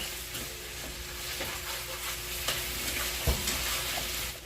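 Banana nut bread batter with chocolate chips and raisins being stirred by hand in a bowl, soft continuous scraping and sloshing with small irregular knocks of the spoon, fairly quiet and close.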